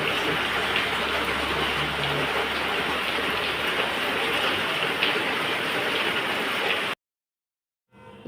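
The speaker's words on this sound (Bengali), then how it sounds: "প্রচণ্ড জোরে বৃষ্টি হচ্ছে।" Heavy rain pours down at night in a steady, dense hiss that runs unbroken for about seven seconds, then cuts off abruptly to silence.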